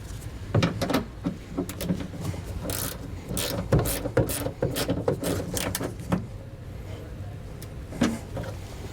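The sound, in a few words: tightening bolt through ring terminal on Ford Transit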